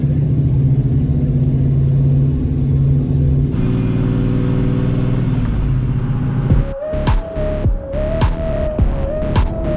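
A stock 1995 Nissan 300ZX with a 3-liter naturally aspirated V6 and 4-speed automatic accelerates on an eighth-mile drag strip, a steady throbbing engine hum that climbs in pitch and breaks into sharp shift-like steps near the end.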